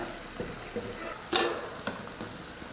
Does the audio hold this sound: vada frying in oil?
yes